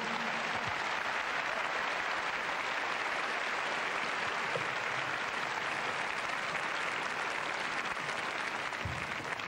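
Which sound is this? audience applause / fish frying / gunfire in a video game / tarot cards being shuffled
audience applause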